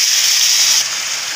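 Water poured into fried masala for a potato, pointed gourd and egg curry gives a steady, loud hiss of steam and sizzle that drops a little partway through, with no talking.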